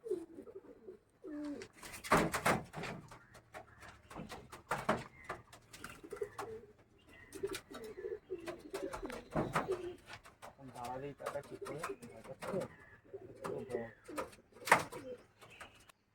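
Pigeons coo in low, throaty bursts among frequent clattering and rustling handling noises, while a person talks now and then.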